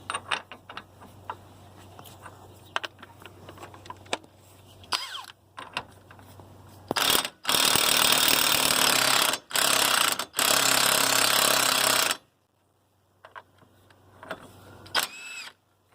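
An impact wrench loosens the 32 mm CV axle lock nut on a 2002 Ford Focus, with two long, loud buzzing bursts after scattered clanks and handling noises in a quiet garage.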